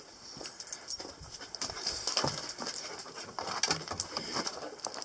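Dogs pant and patter around outdoors near a building site, with quick breathy bursts and scuffling over steady background noise, moderately faint.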